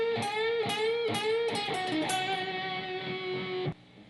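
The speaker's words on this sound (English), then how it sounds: "Part 6 played in real speed." Blues guitar solo passage played at full tempo on electric guitar: quick bent and vibrato notes tumbling together with a slightly gritty tone, close and continuous, ending in an abrupt stop.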